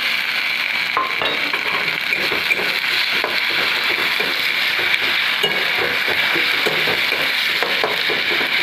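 Chicken curry masala sizzling and frying in a pan as ginger-garlic paste goes in, a steady loud hiss with scattered stirring scrapes throughout, no talking.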